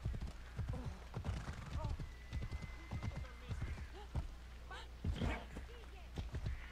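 A horse in Assassin's Creed Odyssey clip-clops along at a steady walking rhythm, with hooves close and clear over game ambience and some talk, and a brief whinny partway through.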